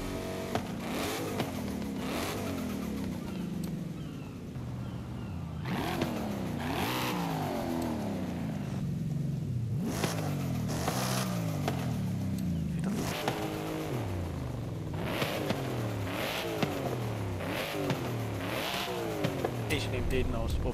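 A 2024 Ford Mustang GT engine in the game Forza Horizon 5 revs repeatedly, rising and falling in pitch with loud exhaust roars, while a voice talks over it.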